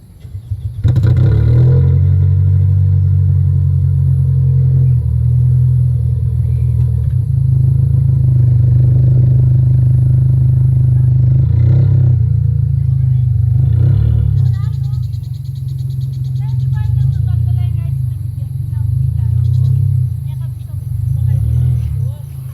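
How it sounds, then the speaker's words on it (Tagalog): Cold start of a Toyota Corolla Altis with a straight-pipe exhaust ending in twin tips, a loud, steady low idle rumble that runs the whole time, with occasional clattering sounds and a voice speaking over it. "Pakinggan naman natin yung cold start. Naka straight pipe nga pala to, tapos may twin exhaust lang sa dulo."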